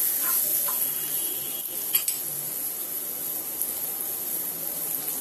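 Chopped onion and turmeric sauté in a pan, a faint steady sizzle with a few light stirring scrapes and clicks of a utensil against the pan, up close with no talking.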